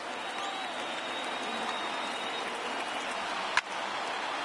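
A crowd of over 36,000 in a baseball video game cheers in a steady, broad roar throughout, with one sharp click near the end.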